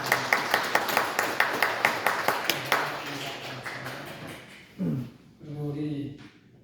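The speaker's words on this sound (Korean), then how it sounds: "하늘 박수" A church congregation claps in a steady, evenly spaced rhythm for a few seconds. The clapping then fades and a voice speaks briefly.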